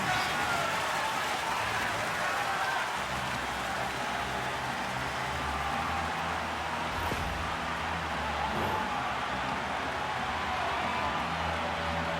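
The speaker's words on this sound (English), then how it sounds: "What a night, and listen to this crowd salute." A hockey arena crowd in the NHL 26 video game, Columbus Blue Jackets against Pittsburgh Penguins, roars in a steady, dense wash of cheering and applause that holds throughout, fairly faint and distant-sounding.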